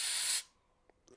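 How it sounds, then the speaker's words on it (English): A short, loud blast of compressed air blows dust out of the fan in an Apple Time Capsule, a hiss lasting under half a second before cutting off, followed by a couple of faint clicks nearby. "the best way to clean that up is get a little bit of compressed air"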